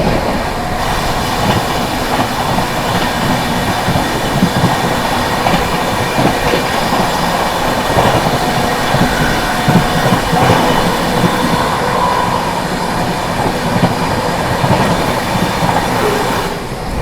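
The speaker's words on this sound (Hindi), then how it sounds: "Overtaking Chandigarh Prayagraj Unchahar express." Indian Railways Anand Vihar Terminal–Prayagraj Humsafar Express overtaking the Chandigarh–Prayagraj Unchahar Express, a loud steady rumble of rolling coaches and clattering wheels close by, with faint wheel squeal, continuous throughout with no talk.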